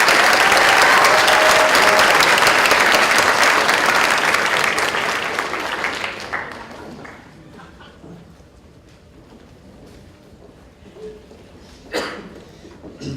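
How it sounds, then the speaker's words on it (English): Loud, sustained applause from a large audience at a school honors ceremony. It holds strong for about six seconds, tapers off to scattered claps and low room noise, and ends with a brief burst of clapping. "Let's give another round of applause for all of our Peabody Scholars."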